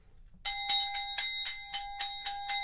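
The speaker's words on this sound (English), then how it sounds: "That's the special guest bell." A small bell rung to announce a special guest on a variety show, eight or nine bright, evenly spaced dings, each ringing on briefly, close and clear with no talking over it.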